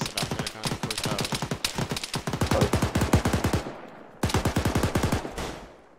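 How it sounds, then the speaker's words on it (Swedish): Bursts of rapid automatic gunfire from the military video game Arma 3 crack in long, dense runs, pausing briefly before another loud volley, with no talk over the shots. "så jag tar skott från folk från bensinmackarna"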